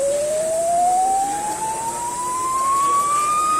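A sonified graph of the line y equals x plays as a single pure electronic tone gliding smoothly and steadily upward in pitch, loud and alone for a few seconds.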